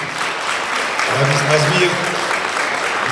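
A theatre audience applauds, dense, sustained clapping at a fairly loud level throughout, with a voice partly mixed in.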